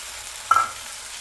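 A brief scrape of a spoon stirring onions as they fry in a pan, one short swish standing out over a faint, steady sizzle.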